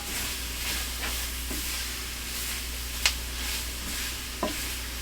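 Crawfish and duck étouffée simmering in a pot on a new GE stove, a low continuous sizzle and hiss with a steady hum beneath and two sharp spoon clinks against the pot.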